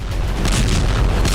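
A large explosion near the Isfahan nuclear centre, a loud sustained roaring boom with heavy broadband rumble filling the whole moment.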